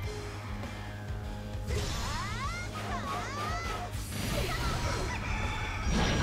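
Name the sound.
rooster crowing in the video game Hyrule Warriors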